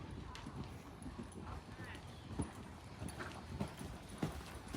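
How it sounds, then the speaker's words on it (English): Horse hooves clip-clopping at a steady walk, light regular thuds close by, with people talking over them. "This horse has gotten springier."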